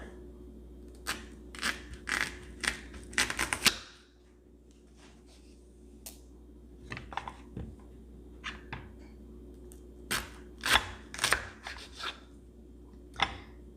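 A knife slices zucchini on a cutting board for air-fryer fries: a quick run of crisp cuts and scrapes, a quiet pause, then another cluster of close, sharp strokes.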